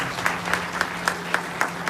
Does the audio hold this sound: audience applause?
yes